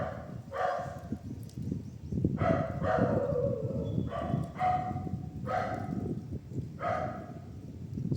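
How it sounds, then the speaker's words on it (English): A dog barks repeatedly nearby, sharp barks in irregular bursts over a rustling background. "Sorry about my dog, it's barking a lot."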